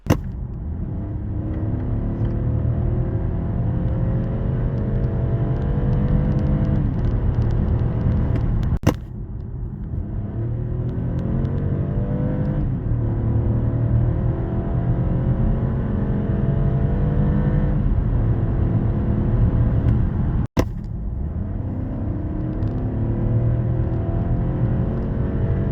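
A BMW X2 sDrive20i with a three-cylinder engine accelerates hard, engine note rising repeatedly through the gears with brief breaks at the shifts, loud and close from inside the cabin.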